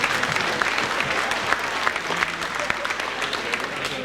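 Audience applause at an awards banquet, a dense steady clatter of many hands clapping throughout, fairly loud and sustained with no break.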